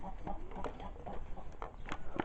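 Farm hens give soft, scattered clucks and short calls in a quiet barnyard on a poultry farm, several brief notes spaced irregularly over a faint background.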